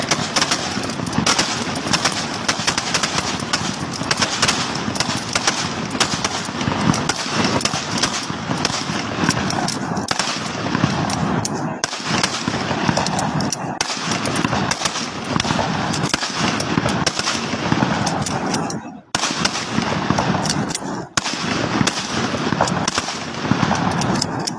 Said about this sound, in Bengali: নিজ নিজ টার্গেট 5 রাউন্ড অ্যাপ্লিকেশন ফায়ার।